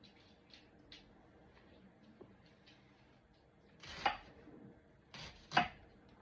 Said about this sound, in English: we're going to slice up some onions for my green beans